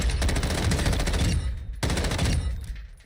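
Rapid sustained automatic fire from an M13 assault rifle in the Call of Duty Warzone video game, loud dense bursts with a brief pause near the middle, then a second burst tailing off.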